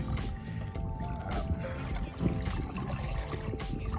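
Dirty water trickles and splashes steadily while draining from a 2007 Yamaha Kodiak 450 ATV during servicing, over a low rumbling background, with gusty wind noise throughout.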